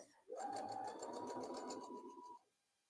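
A sewing machine stitching at a 1.8 stitch length runs in one continuous burst of about two seconds, a close, rapid mechanical whir with a steady hum, then stops into quiet.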